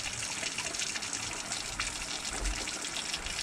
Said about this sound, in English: And the water is now bubbling over into that top chamber.